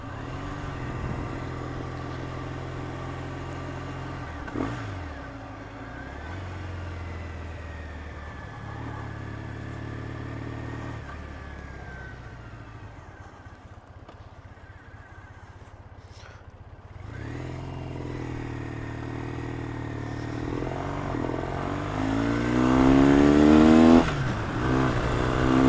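Triumph Thruxton motorcycle engine on a test ride, a steady close-up rumble that swells into rising revs toward the end.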